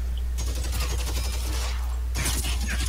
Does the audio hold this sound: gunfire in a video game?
yes